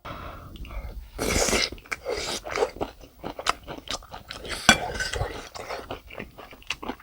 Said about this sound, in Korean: 프라이팬에다가 한 고기를 먼저 한번 먹어볼게요